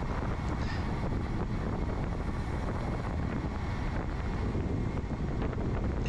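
Wind roaring over the rider during a fast downhill road descent in the GFNY Cannes 2024 cyclosportive race, a loud, unbroken broadband rush buffeting the microphone throughout, with no voices.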